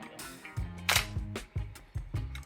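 Film camera shutter fired by cable release, a series of sharp mechanical clicks, about five in quick succession, close and distinct with no talk.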